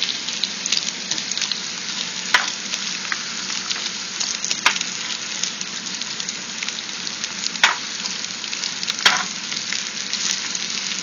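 Onions and garlic sizzle steadily in a pan, a continuous crackling hiss broken by a few sharp scrapes and clinks as they are stirred.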